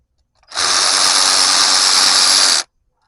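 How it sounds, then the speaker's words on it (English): An electric ratchet runs continuously for about two seconds while backing bolts out of a 6.0 LS truck engine, a loud, steady high-pitched whir close by with no talking. "I'm gonna be a little lazy and grab my electric ratchet, and we're gonna try to run this thing up out of here."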